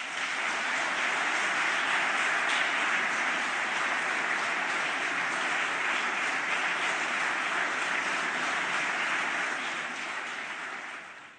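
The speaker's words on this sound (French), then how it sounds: "Voilà François Hollande dans cette grande salle des fêtes de l'Hôtel de Ville de Paris, très applaudi par les élus ultramarins" Elected officials from the overseas territories applauding François Hollande in the grand festival hall of Paris City Hall, dense, sustained applause from a large crowd filling the room for about ten seconds before fading slightly.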